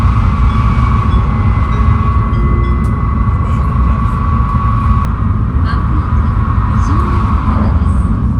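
Steady rumble of a Japanese train running on rails, with continuous low mechanical noise and a faint sustained tone, loud and close from inside the carriage, crossing the Sagami River.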